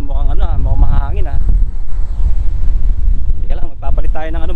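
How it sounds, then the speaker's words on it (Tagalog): Outdoors at an evening celebration in Dubai, wind buffets the microphone with a steady low rumble throughout, under bursts of nearby voices talking. "Yan, medyo mahangin kasi kaya palit tayo ng panghangin."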